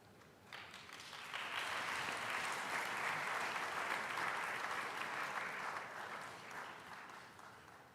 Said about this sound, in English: We will clap, you will come faster.